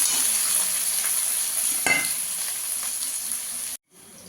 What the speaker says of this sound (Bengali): পেঁয়াজটাকে একটু ভালো করে লাল করে ভেজে নেবো।